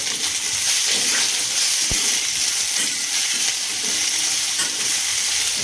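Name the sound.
dried onion and garlic being stirred and fried in a pan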